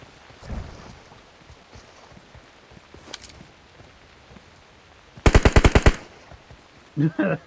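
Bursts of automatic gunfire in the PUBG Mobile battle royale game on the Sanhok map, with a loud rapid volley of about eight shots near the middle and a shorter burst at the end over low background noise.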